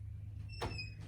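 A heavy steel door at the bottom of a stairway is pulled open, a brief scraping swing with a faint metallic ring over low room hum.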